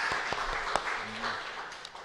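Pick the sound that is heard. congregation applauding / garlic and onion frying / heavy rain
congregation applauding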